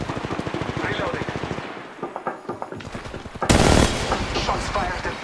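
Gunfire in the mobile battle royale game Apex Legends Mobile: rapid automatic weapon bursts close by, then a louder, harsher volley partway through, with an in-game character voice speaking over the shooting.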